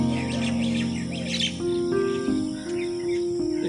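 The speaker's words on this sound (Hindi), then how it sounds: "चिड़िया चुड़िया सवेरे सवेरे चेचे आ रही ने" Small birds chirp and tweet in village trees on an early morning, a steady overlapping chorus of close and distant calls with a continuous insect-like drone underneath and no one speaking.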